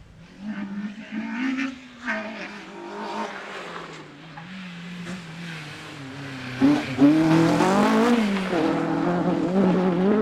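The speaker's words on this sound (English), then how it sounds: "Peugeot 205." A Peugeot 205 race car drives hard in a time trial, its engine revving and rising in pitch over about ten seconds. It sounds fairly close, with no talk over it.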